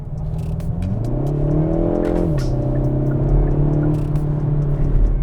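A 2019 Kia ProCeed GT, a shooting-brake estate, revs up close with a rising then falling engine note over steady road rumble, loud and continuous with no voices.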